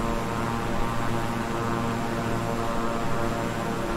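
A King Air 350i twin-engine turboprop in Microsoft Flight Simulator, a steady loud propeller and engine drone with a constant tonal hum and no variation or talk.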